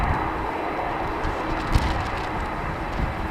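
A TUI Boeing Dreamliner at Amsterdam Schiphol gives off a steady, muffled jet rumble with a faint tonal whine. It sounds distant and keeps an even level, with one small bump partway through.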